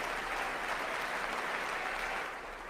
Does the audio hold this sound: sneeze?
no